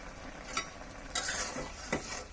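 Broccoli curry seasoned with black pepper being stirred in a pan, giving a few soft scraping strokes over a steady low frying hiss, moderately close.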